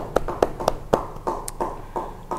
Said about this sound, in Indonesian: Beri tepuk tangan bagi Tuhan.